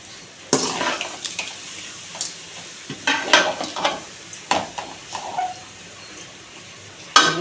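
Vegetables added to sautéed onion and garlic are stirred in a pan, with a soft sizzle under intermittent spatula scrapes and knocks at an uneven pace, close and fairly clear.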